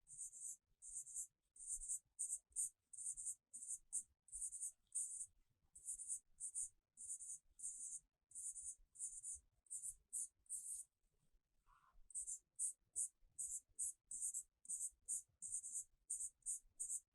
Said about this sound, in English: So we have to write down all up to 50.